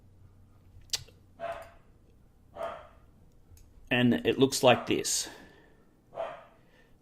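A dog barks a few times in the background, brief and somewhat distant, while someone speaks briefly.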